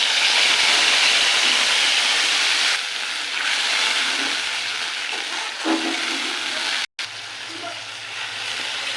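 Cardamom, whole cumin and ground spice paste hitting hot oil give a loud, steady sizzle and hiss that holds throughout, dipping briefly partway, with no talking.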